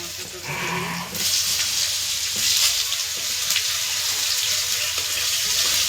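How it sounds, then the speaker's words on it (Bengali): Pointed gourd (potol) pieces frying in a pan in a village kitchen, a steady broadband sizzle holding close and even for the whole stretch, with faint background noise underneath. "পটলটা ভেজে নেব"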